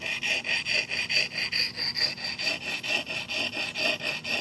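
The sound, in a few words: axe blade being sharpened with a sharpening stone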